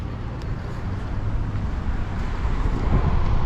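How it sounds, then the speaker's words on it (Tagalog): Strong, cold wind buffets the microphone on Kinkazan, a steady low roar that builds slightly louder toward the end and continues without pause. "Grabe, hangin na naman."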